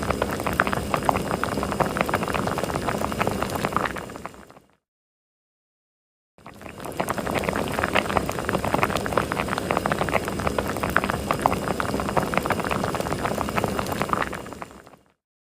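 A pot of hominy corn porridge simmers with a steady, dense bubbling and popping, close and continuous, broken by a brief silent gap before the bubbling resumes, without any speech.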